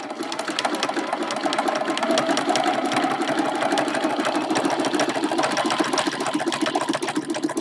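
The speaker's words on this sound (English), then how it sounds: "So I'm going to go ahead and stitch this longer line and this little short line right there." Sewing machine stitching a long seam on a quilted mug rug at short stitch length, a close, rapid, steady mechanical whir with a fine rhythmic clatter running unbroken throughout.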